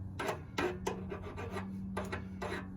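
A metal key on a leaf blower impeller shaft being filed to clear burrs off its end, giving close, rhythmic rasping strokes, about six in quick succession, over a steady low hum.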